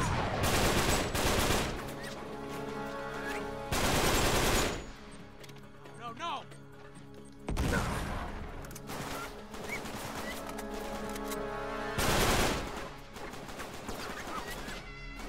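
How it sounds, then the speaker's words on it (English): Gatling gun fire in the video game Uncharted 3, several loud sustained bursts of rapid automatic shooting separated by quieter gaps with some crashing impacts. "are they shooting those Gatling guns?"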